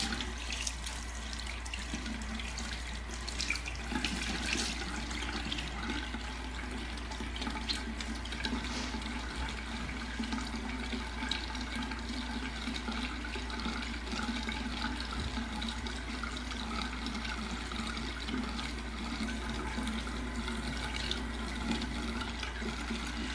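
Tap water runs steadily into a sink while historical hair pieces are washed free of powder and pomade, a constant close rushing with light splashing and no talk.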